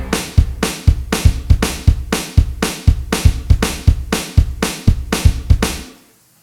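A punchy drum line pounds out a fast, steady beat of loud kicks and snares, about sixteen hits, then cuts off abruptly.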